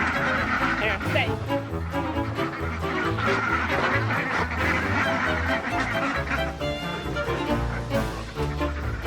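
Ducks honking and quacking repeatedly at close range near water, a busy overlapping chorus with people's voices mixed in.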